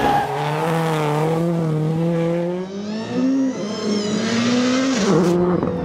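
An Audi S1 RX rallycross supercar accelerates hard on a race track, its loud, close engine note rising steadily through the gears with a brief dip between shifts, heard alone without talk.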